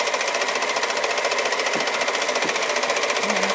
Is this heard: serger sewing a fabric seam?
yes